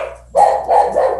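A dog barks close and loud, two or three quick barks in a short burst with no talking.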